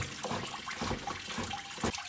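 Water drains out of a New Holland B95 tractor's engine during a water pump job and pours into a bucket, a steady nearby splashing stream with a few uneven gurgling surges and no voices.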